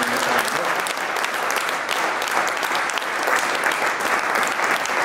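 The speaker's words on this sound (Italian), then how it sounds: "Io vi ringrazio dell'applauso" Dense, loud applause from the audience at a Democratic Party (PD) directorate meeting in Bologna, a continuous wash of many hands clapping throughout without speech.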